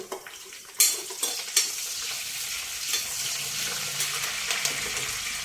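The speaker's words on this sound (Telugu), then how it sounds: "ఇప్పుడు వెల్లుల్లిపాయ, ఎండుమిరపకాయ, ఇంకొన్ని 4 పచ్చిమిరపకాయలు, కరివేపాకు" Dried red chillies, garlic, green chillies and curry leaves hit hot oil as tempering for amaranth-leaf pulusu. A loud, steady sizzle fills the clip, with sharper crackles as each ingredient goes in and stirring clatter over it.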